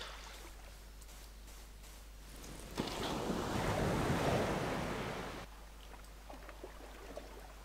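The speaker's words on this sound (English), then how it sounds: "Nice wind sound there." A soft whooshing gust of wind in Minecraft rises and fades over a quiet ambient background, with a faint surf-like wash and no talking.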